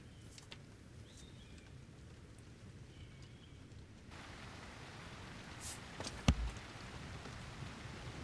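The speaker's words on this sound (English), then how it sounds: "Is it raining?" Rain falling in the video game God Save Birmingham, a faint steady patter that grows slightly denser midway, with a brief sharp knock near the end and no voices.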